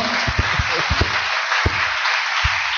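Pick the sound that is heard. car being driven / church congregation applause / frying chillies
church congregation applause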